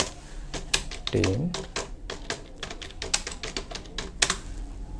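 Someone types an address on a computer keyboard, a quick irregular run of sharp key clicks at close range, with a voice speaking briefly over the tapping.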